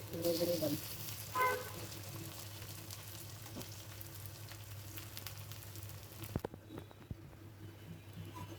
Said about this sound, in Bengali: এগুলো আমার ভাজা হয়ে গেছে, এগুলো নিয়ে নিচ্ছি।